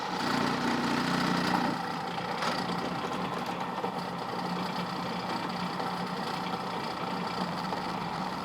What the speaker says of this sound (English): Drilling the aluminum is really easy.